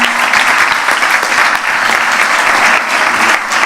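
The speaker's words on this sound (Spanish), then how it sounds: "un aplauso muy fuerte para ella" Loud, dense applause from the audience at an oncology health-plan conference, a steady wash of clapping that holds strong without a break for the whole stretch.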